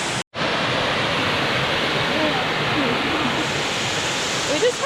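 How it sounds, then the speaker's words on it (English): A waterfall seen on a barefoot river hike roars as a steady, full wash of falling water. It stays loud and constant the whole time, with only a brief dropout near the start. "That's a waterfall."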